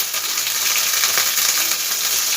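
Moringa flowers sizzle as they drop into a pan of half-fried eggplant, a steady, loud hiss of hot oil that runs without break and has no talk over it.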